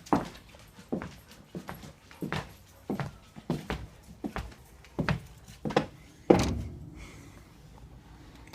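A dog barks indoors in a steady series of about a dozen sharp, loud barks spaced roughly half a second apart, close by, with one heavier bark near the end before the sound fades.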